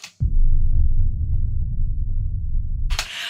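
A deep, booming low rumble swells in and throbs steadily for a few seconds like a cinematic opening hit, then cuts off into a brighter burst.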